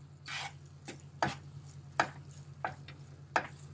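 Flour being stirred and toasted in a pan for low-sugar pumpkin halva, with a steady frying hiss and several sharp scraping knocks of a utensil against the pan, close and alone without talk.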